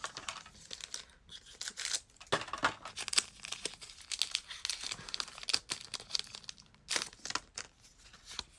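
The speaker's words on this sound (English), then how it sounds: "This pack we're going to open up is of Vivid Voltage of Zarude." Crinkling foil of a Pokémon Vivid Voltage booster pack being torn open up close, a run of crisp crackles and rips with brief pauses, no talking.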